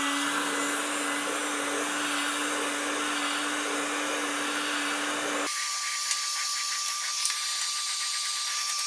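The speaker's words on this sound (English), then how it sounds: "so I'm going to use a heat gun." A heat gun blows steadily at close range, loosening the knobs on a Kubota BX24D compact tractor; the airy roar runs unbroken, shifts to a higher, thinner whine partway through, and carries no talk.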